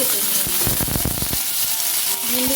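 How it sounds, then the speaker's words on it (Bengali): Whole okra pods drop into hot mustard oil in a pan, giving a steady bright sizzle with a cluster of sharp spattering crackles as they land, close and continuous. "সর্ষের তেল দিয়েছি তেল গরম হলে ভেন্ডিগুলো দিয়ে দিচ্ছি"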